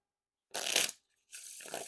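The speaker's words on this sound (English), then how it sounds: "And no issues with the Riffle Shuffles." Rise playing cards being riffle shuffled, two short close bursts of fluttering, rapid card clicks separated by a brief pause in an otherwise silent room.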